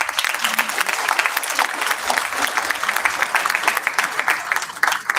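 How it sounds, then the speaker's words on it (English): Big round of applause for tenure awardees at a town hall ceremony, a sustained, dense clapping crowd holding steady throughout. "Let us give all our tenure awardees one more big round of applause"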